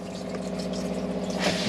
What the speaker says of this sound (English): press the blue button and you'll see the water filling the bowl